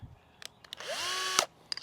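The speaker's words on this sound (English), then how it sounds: "I'm just going to drill a hole right in the middle of this" A Skil PowerCore 20 cordless drill with a very dull bit bores a hole into a metal can, giving a brief rising whir that holds for about half a second, framed by a few close clicks and taps.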